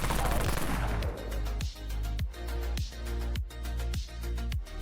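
The Dawn Minigun fires in the game Dead Frontier, a loud, dense stream of rapid shots with heavy regular thumps roughly every half second, close and continuous.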